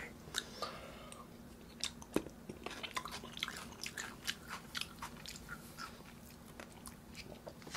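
Close, quiet chewing of a premium steak in a late-night eating session, with wet, crunchy bites and mouth sounds repeating in an irregular rhythm throughout.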